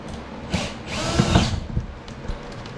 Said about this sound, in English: I'm gonna pilot drill it with this and then saws all the rest